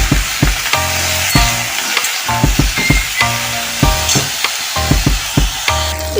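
Close, loud sizzling of jackfruit frying in a pan, punctuated by regular spatula knocks and scraping stirs against the pan.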